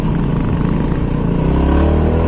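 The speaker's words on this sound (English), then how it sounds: "so I'd go ahead and downshift" A motorcycle on a muddy Alaska hill climb downshifts, its engine revving loud and close in a short, continuous burst that climbs in pitch toward the end.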